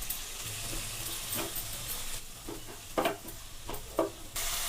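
Mint leaves fry in a little oil in a pan, a soft crackling sizzle broken by irregular stirring scrapes and a few sharper clatters, with no voices.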